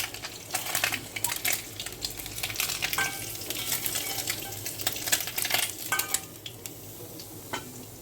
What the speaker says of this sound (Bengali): মাছগুলো হালকা করে ভেজে নিয়েছি, এখন আমি তুলে নিচ্ছি।